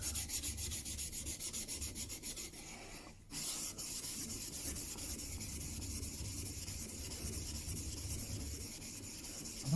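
A wood carving tool scrapes back and forth on a gritty 10k waterstone in soft, steady rubbing strokes, close and quiet, with a brief pause partway through before the grinding resumes.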